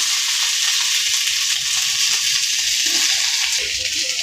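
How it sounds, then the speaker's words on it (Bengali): Potatoes frying in a pan on a gas stove, a steady loud sizzle that holds evenly from start to end. "এদিকে আলুটি বাইজে নিতেছে"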